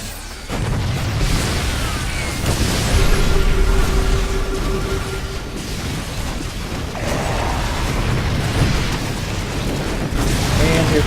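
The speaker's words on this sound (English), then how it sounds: "Here comes another volley of locusts." Swarm host locusts attack in a StarCraft Heart of the Swarm Zerg versus Terran battle against bio-mech, a loud, dense wash of game combat noise with rumbling impacts and clattering mechanical effects throughout.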